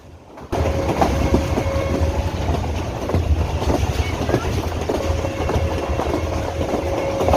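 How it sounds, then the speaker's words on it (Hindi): Train rolling on rails during a passenger journey, a steady close rumble with rhythmic clickety-clack beats throughout, a faint sustained whistle-like tone in places, and voices murmuring under the noise. "ट्रेन के सफ़र में ट्रेन की आवाज़, विसल और ये बेचने वाले की आवाज़"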